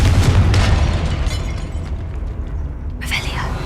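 A Confringo fire-spell blast in Hogwarts Legacy lands as a loud, booming burst that rumbles and fades, followed by a smaller crackling flash near the end, with a voice calling out the spell.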